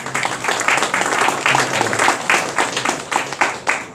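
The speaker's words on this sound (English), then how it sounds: "So let's give them one more round of applause." Applause from a crowd for first responders at a wildfire awareness and prevention event, a sustained wash of clapping with individual claps standing out near the end.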